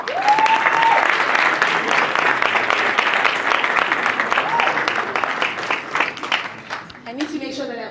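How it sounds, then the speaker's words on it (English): A seminar audience at a Sandton hotel applauds steadily and loudly, the dense clapping thinning near the end as a voice starts speaking over it. "Please clap your hands for him."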